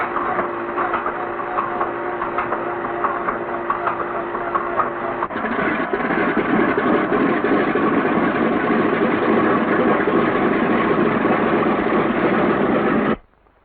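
A B-17 bomber's radial engine turns over and catches, then settles into a loud, steady, rough idle that runs on continuously before cutting off abruptly at the end.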